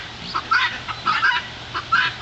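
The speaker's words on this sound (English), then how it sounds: "He does, he snorts like a little pig." A male mandarin duck on a farm gives three short, raspy, pig-like snorts, about half a second apart, fairly close and with no talking.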